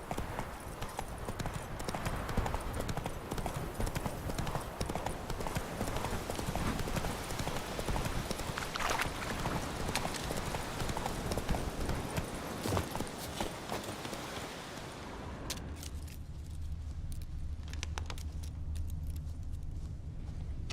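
Roach, the horse in The Witcher 3, trots with a fast continuous clip-clop of hooves under steady game ambience and jangling tack for about fifteen seconds, then the hoofbeats stop and only a low hum remains.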